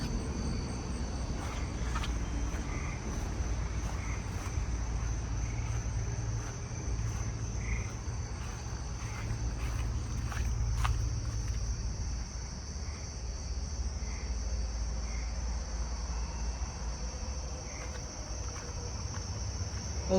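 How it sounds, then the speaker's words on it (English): A Carolina ground cricket trills continuously outdoors, a steady high buzzing that stays moderately loud, with a low rumble of background noise underneath. "there's a Carolina ground cricket over here, it sounds like."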